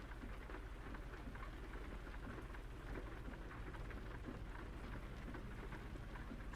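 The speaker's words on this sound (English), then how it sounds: "This rain is just ridiculous." Heavy rain in American Truck Simulator during a drive from Moab, Utah toward Cheyenne, Wyoming: a dense, even downpour drumming on the truck with a low rumble underneath, steady and unbroken, no talking.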